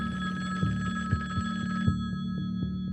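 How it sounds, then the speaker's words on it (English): Telephone bell ringing in a steady repeating pattern of tones, fairly loud and alone, with a low hum beneath and a few soft clicks. "the phone just kept on ringing"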